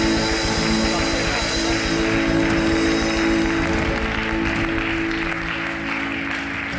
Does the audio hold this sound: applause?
yes